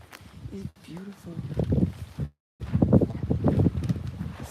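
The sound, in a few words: wind blowing outdoors in garden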